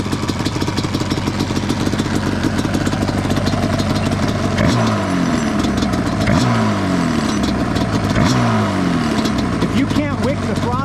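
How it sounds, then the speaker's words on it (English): A Yamaha Banshee 521 two-stroke engine idles at Glamis, California, with the throttle blipped several times in quick rising-and-falling revs over a loud, close, continuous rattle. "you should be able to wick the throttle without having it bob"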